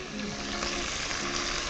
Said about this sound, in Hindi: सॉरी टमाटर डालो कुकर में।